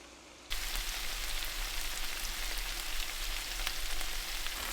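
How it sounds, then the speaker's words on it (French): Tomatoes frying in a hot pan, a steady dense sizzle that starts abruptly and holds loud and even, with no talking. "Ensuite, j'ajoute les tomates. Puis là, je vais laisser cuire un bon moment"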